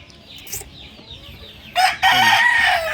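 A gamecock rooster that has twice won cockfights in San Pedro crows loudly and close, a short call then a longer sustained crow near the end, with faint clucking from other fowl before it.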